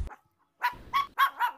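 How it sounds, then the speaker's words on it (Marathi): A dog barks sharply several times in quick succession, close by, with a short yip just before and no other sound around it. "तरी सुद्धा कुत्रा भुंकतच राहतो."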